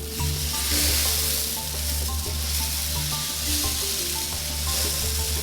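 A homemade rain stick filled with rice is tipped, giving a continuous close hiss of pattering grains cascading inside the tube, fairly loud and steady throughout.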